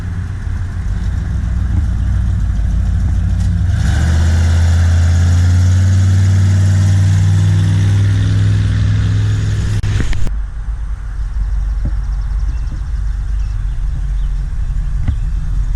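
A Cadillac engine at a horsepower farm event rumbles nearby, then swells into a loud, deep run for several seconds before cutting back to a lower background drone.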